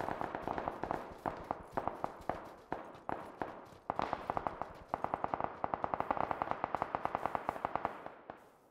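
Rapid bursts of gunfire in the battle royale game PUBG, crackling across open ground from across the way, with dense repeated shots that thicken into near-continuous firing in the second half; no talking.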